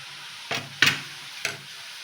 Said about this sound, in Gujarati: આપણું તેલ ગરમ થઈ ગયું છે. જે એકદમ ગરમ નથી કરવાનું, મીડિયમ ગરમ કરવાનું અને સંચારથી આ રીતે સેવ પાડી લેવાની છે